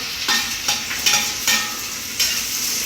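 Chopped onions and three green chilies stirred and frying in a pan, several scraping stirs over a steady close sizzle.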